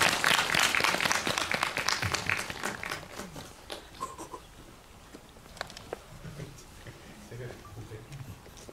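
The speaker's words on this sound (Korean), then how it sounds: "박수로 환영해 주시면 감사하겠습니다." Audience applause welcomes guests to an indie film talk at a small cinema, a dense burst of clapping for about three seconds that thins into scattered claps as a voice begins speaking.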